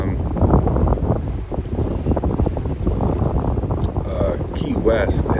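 Strong wind roars across the open deck of a cruise ship at sea, a steady, loud, buffeting rush that hits the microphone hard, with faint higher whistles near the end.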